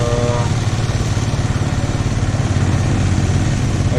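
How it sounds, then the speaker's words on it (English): The gasoline generator engine of a handmade ploughing tractor in the Philippines runs loud and close, with a fast steady pulsing chug that does not change pitch. No one speaks. "generator and machine which he is using right now"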